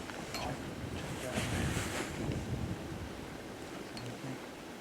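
Gusty wind roars outdoors across a microphone on a coyote-calling stand in Vermont, a steady, loud rumble that swells and eases with no speech.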